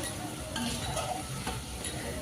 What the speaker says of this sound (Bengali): মাংস ভাজার কাজ চলছে